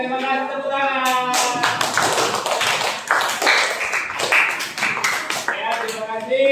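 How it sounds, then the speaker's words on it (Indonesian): A classroom of students claps for a group that has just presented: a burst of quick, close claps, with a voice talking at the start and again as it ends. "terima kasih, tepuk tangan"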